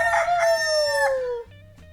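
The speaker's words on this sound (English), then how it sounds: "Next they visited Cockerel, who showed off his magnificent call." A single rooster crows a long, loud cock-a-doodle-doo close by, the call rising and then trailing off, followed by a quiet pause.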